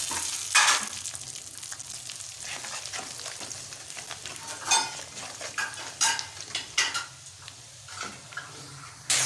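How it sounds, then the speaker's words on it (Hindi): Masala sizzles and fries in a pan with fully browned onions, a steady crackle broken by scraping stir strokes and utensil clicks against the pan. The sound is close and moderately loud. "अब इसमें मसाला ऐड कर देंगे।"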